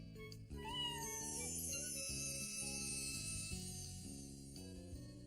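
A cartoon kitten named Gilbert meows repeatedly in short, high, close calls, with soft music underneath.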